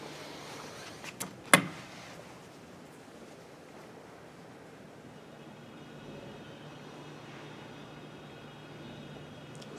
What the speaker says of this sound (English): let's take a ride on the elevators